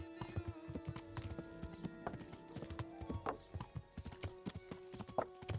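A horse gallops in a video game with a quick, steady clip-clop of hooves, low in level and up front, alongside a short whinny and game ambience.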